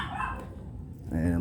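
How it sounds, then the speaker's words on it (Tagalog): A dog barks a few times close by amid a bustling household while a vlogger prepares to head out toward Rodriguez, Rizal; speech is heard alongside the yips and woofs. "yung aso."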